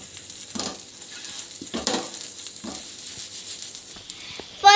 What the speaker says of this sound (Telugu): దోశలాగా దాన్ని ఇట్లా రోస్ట్ చేయాలి